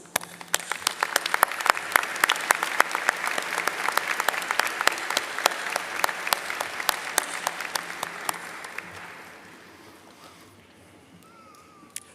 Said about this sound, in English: Faculty, please rise and let us give you a round of applause.